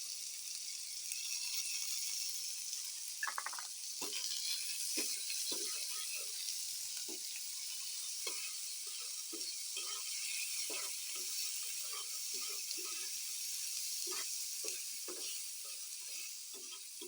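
Onion, coriander leaves and green chili sizzling steadily in hot oil, a constant bright hiss broken by small crackles and pops and occasional stirring clinks.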